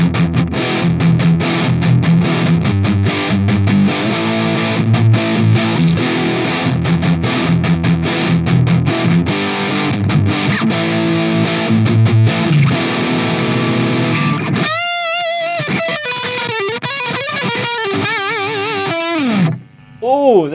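Electric guitar played through a NUX Recto distortion pedal, a thick, loud distorted riff for about fifteen seconds that then thins into sustained, bending single-note lines with lighter gain.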